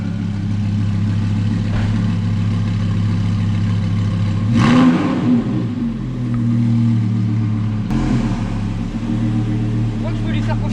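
An Audi R8 V10 cabriolet engine idles with a deep, steady rumble, then gives a short throttle blip around the middle and another brief rise near the end, with voices nearby.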